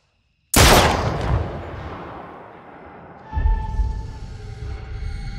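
A single loud gunshot in The Dark Pictures Little Hope cracks out of silence and rings off into a long decaying tail, followed by a low rumbling swell.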